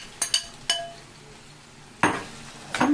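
Soaked prawns go into a pan of frying ginger garlic paste, with a few sharp metallic clinks and scrapes from the pan and spoon at close range over a faint sizzle.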